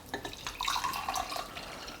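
Liquid briefly poured into a glass, a short bubbly trickle with light splashes, quiet and close, no talking.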